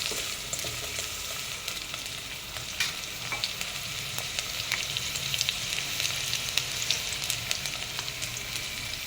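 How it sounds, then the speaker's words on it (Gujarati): Chopped onions frying in a pan for a traditional Kathiyawadi dhansak, a steady dense sizzle and crackle that stays close and even throughout, with no voices. "પછી ડુંગળીને આપણે થોડીક ગુલાબી રંગની થવા દઈશું."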